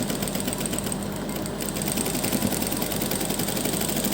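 Sewing machine stitching around the neckline of a blouse, giving a steady, continuous motor whir with a fine rapid needle rhythm throughout, unbroken and without talk.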